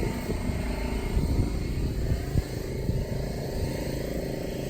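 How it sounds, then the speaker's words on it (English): An air compressor runs steadily nearby during a GM 4107 bus recovery, a continuous low mechanical drone with a chugging rumble that holds at an even level without pause. "Compressor again."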